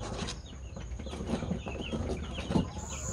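A sick chicken being treated for avian malaria clucks in short, soft calls at close range, with faint background noise and no talking.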